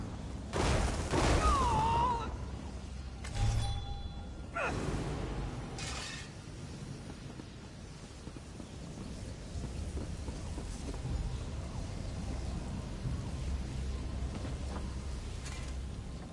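Lightning strikes in The Elder Scrolls Online: sharp crackling bursts and booming impacts at several moments, ringing over a steady dense rumble of game ambience and effects.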